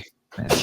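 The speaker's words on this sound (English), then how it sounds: "this is our first on air sneeze" A single sharp sneeze from a man on a football podcast, a brief inhale and pause followed by a loud explosive burst, close to the microphone.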